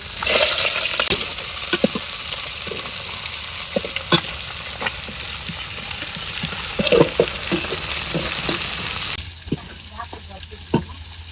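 Chopped onion hisses and spits in hot oil in a kadai, cooked for an aubergine and fish curry in a village kitchen, with a steady loud sizzle broken by sharp spatula scrapes and clinks as it is stirred.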